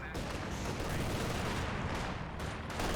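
A rifle grenade fires in Company of Heroes 2 amid a steady roar of gunfire and explosions, loud and continuous across the whole stretch.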